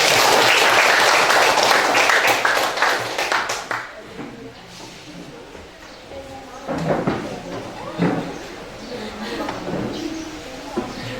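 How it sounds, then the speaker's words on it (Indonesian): A class of students claps loudly for a few seconds, the applause fading quickly into a quieter room where a teacher resumes talking over scattered background sounds. "beri tepuk tangan dulu"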